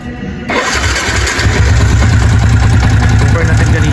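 Yamaha Sniper 150 motorcycle fitted with a manual cam chain tensioner and aftermarket camshaft cranks and fires up, then settles into a steady, close, fairly loud idle.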